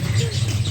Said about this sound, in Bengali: চতুর্দিকে পাখি ডাকছে